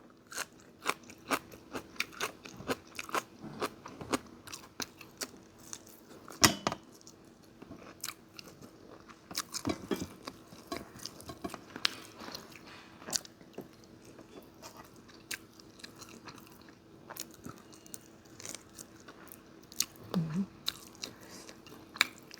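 Chewing and crunching while eating a Thai meal of northern-style pork curry, tom yum with straw mushrooms, bony fish and boiled vegetables with fermented fish chili paste; close, quiet crisp bites and wet chewing in irregular bursts.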